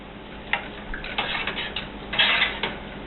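Ingredients for Glühwein stirred together in a pot, with a series of clinking, scraping spoon-against-metal knocks and splashy mixing sounds at a moderate, close level, no voices.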